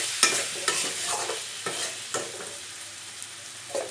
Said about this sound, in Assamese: এতিয়া কম গেছতে মই ভালকৈ লৰাই ঢাকি দিম, যাতে মছলাখিনি বিলাহী আৰু আলু ভালদৰে ভজা নিচিনা হৈ যায়।